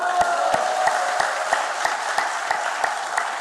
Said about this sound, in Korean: 아이고 박수.